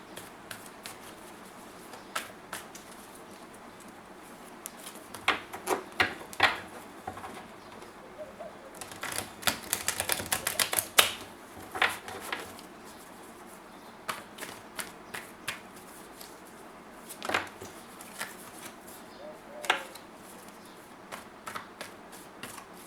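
Tarot cards are shuffled in quiet, intermittent bursts of soft riffling and flicks, close but faint, with brief pauses between handfuls and light bird calls in the background.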